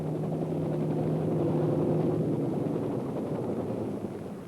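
A military helicopter in flight, used to carry ground forces through wild country, gives a steady low rotor drone with a faint hum that holds at constant loudness, then eases off slightly at the end, with no talk.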